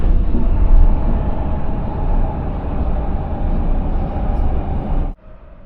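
Passenger train running between stations on a Sydney–Newcastle line, a steady loud rumble and rolling roar of the carriages that cuts off abruptly near the end into quiet cabin hum.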